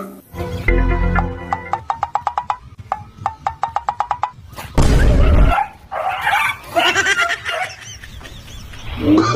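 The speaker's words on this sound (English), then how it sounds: "Wow, animal dog." A dog's barks mixed with other cartoon-style animal sounds such as honking fowl, in a children's superhero cartoon toy-cleaning setting, loud and close with repeated sharp calls and rhythmic tones.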